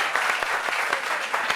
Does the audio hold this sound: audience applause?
yes